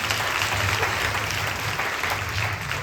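Steady, dense applause from a crowd at an annual church festival for Saint Anthony, a continuous even wash of clapping with a low hum underneath and no voices.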